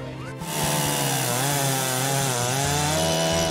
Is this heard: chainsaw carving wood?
yes